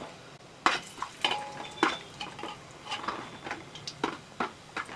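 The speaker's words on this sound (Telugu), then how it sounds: "వేసుకొని మంచిగా కలుపుకోవాలి" A utensil scrapes and clinks repeatedly against a metal pan, stirring cumin and mustard seeds in an uneven rhythm, close and fairly loud, with faint sizzling underneath.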